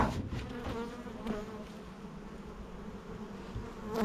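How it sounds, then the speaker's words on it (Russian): Honey bees buzzing around an opened twelve-frame beehive, a dense, steady swarm hum close by with individual bees droning past, no talk. "Давайте відкриємо все рядом 12-рамочний улей."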